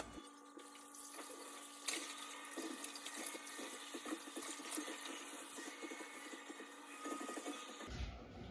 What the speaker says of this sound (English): Now I'm gonna like wash it with water.